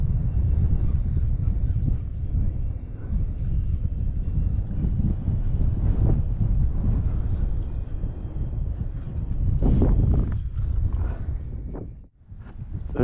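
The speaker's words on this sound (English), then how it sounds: "And this is a sustained wind, man. This is not gusts." Sustained wind blows over a Florida creek near Yankeetown during kayak fishing, a steady loud roar buffeting the microphone with no breaks, with no talking.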